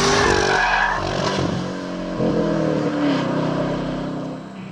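A Chevrolet Camaro ZL1 engine drones loudly and steadily during a 24-hour durability run, with its pitch rising and falling as the car is driven.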